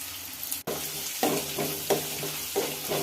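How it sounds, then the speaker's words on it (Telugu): Mustard seeds, chana and urad dal, curry leaves, green chilies, onion and ginger frying in hot oil for Andhra rava upma, a continuous close sizzle with a few stirring scrapes landing at regular intervals. "ఆవాలు పచ్చనిపప్పు మినపప్పు కరివేపాకు పచ్చిమిరపకాయలు ఉల్లిపాయలు అల్లం ముక్కలు బాగా ఫ్రై చేసుకుందాం"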